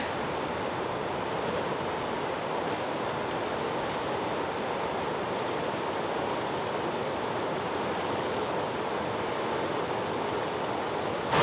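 A deep glacial river rushes beside a cave, its steady broadband roar continuous and fairly even from start to finish, with no voices over it.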